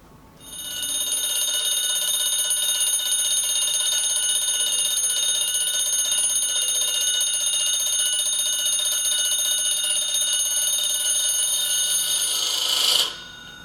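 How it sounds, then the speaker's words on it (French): An alarm clock rings continuously at a shrill, steady pitch for about twelve seconds, loud and close, then cuts off abruptly. "vous aimez ce son de réveil"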